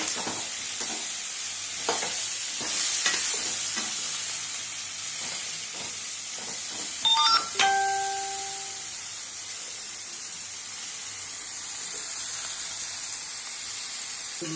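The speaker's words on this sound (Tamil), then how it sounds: "எடுத்து கடாயில் போட்டாச்சு. இப்போ வந்து இது மாதிரி கலந்து விட்டுக்கணும்." Brinjal fries in oil in a kadai for ennai kathirikkai kuzhambu, with a steady soft sizzle and several scraping stirs early on, then a few bright clinks, close and unaccompanied by talk.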